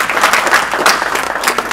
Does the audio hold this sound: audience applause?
yes